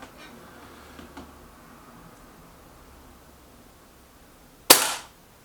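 A single sharp crack as a Benjamin Akela air rifle fires a pellet, close and sudden, with a quick decay after a few seconds of quiet background hiss and faint clicks.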